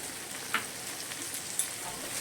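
Water poured over well-fried spices in a pan for a sour fish curry with hog plums makes a steady, loud hiss and sizzle. Two brief clicks stand out against it, and no voices are heard.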